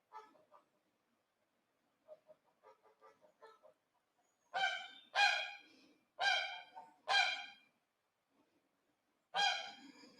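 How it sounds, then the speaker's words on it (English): Geese honk loudly outdoors in several harmonic calls, one brief burst after another, after a stretch of soft murmuring at the start. "as soon as the geese start to go, the dogs will go"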